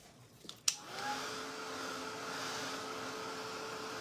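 A hair dryer switches on with a sharp click and then runs as a steady, close whirring blow, drying paint on a small Christmas tree painting.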